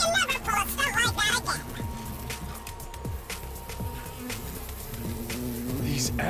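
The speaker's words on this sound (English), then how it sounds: "These asshole bees are back?" Swarming bees in a video game give off a steady, fluttering buzz, loudest at the start and continuing under music and other game sounds.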